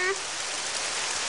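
Steady, dense rain hissing down in a Doraemon cartoon, with a brief faint tone at the very start.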